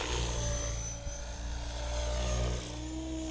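A SAB Raw Piuma RC helicopter flies with a smooth, continuous rotor and motor whine that holds steady at moderate loudness throughout.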